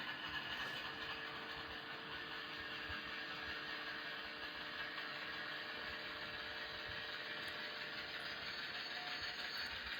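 DCC sound decoder in a Walthers CN ES44AC model locomotive starting up, giving a faint, steady mechanical rumble and rattling diesel churn with no talk, quiet and even throughout.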